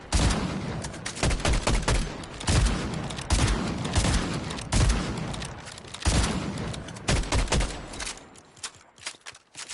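Rapid gunfire in a Fortnite Blitz squads match, repeated loud bursts of shots in clusters over several seconds, close and dense, tapering into a few scattered shots at the end.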